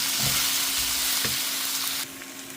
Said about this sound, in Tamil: இப்போ வந்து நம்ம இந்த உருளைக்கிழங்கை நேரடியாக இதில் போட்டுடலாம் இதை போட்டு இதை நல்லா மிக்ஸ் பண்ணிடலாம்